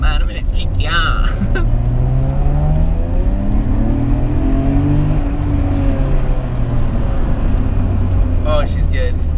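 Nissan Skyline R34 GT-R engine heard from inside while driving on narrow back lanes, a loud steady growl with rising and falling revs through gear changes, with brief voices at the start and end.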